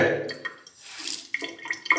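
Water runs from a hotel bathroom sink tap in short, uneven spurts, with bright splashing bursts and pauses as the heavy tap handle is raised and lowered, close up and moderately loud.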